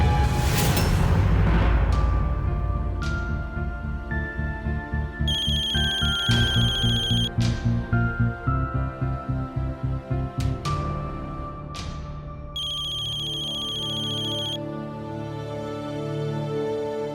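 A phone ringtone plays loudly and steadily through the whole stretch, with a repeating electronic melody and chiming tones, in a Hindi TV drama household scene. Nobody speaks over it.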